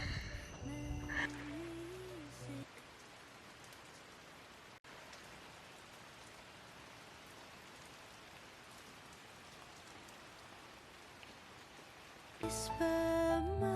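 Rain falls outdoors in a soft, steady patter and hiss, framed by a stretch of music at the start and again at the end.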